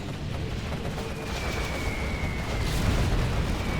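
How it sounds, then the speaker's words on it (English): MiG air strike explosions rumble through a Command & Conquer Generals match on the Stonehenge map, a dense, steady barrage of booms and crackling blasts filling the whole stretch without pause. "That was a good MiG hit, because you have killed something there for free."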